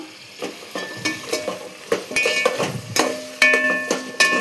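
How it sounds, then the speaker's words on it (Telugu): Potato and two medium tomatoes fry in a pan, their sizzle broken by repeated metallic scrapes and clinks of a spoon against the pan, growing louder and busier toward the end. "ఇప్పుడు ఇది వేగుతున్నాయి కదా"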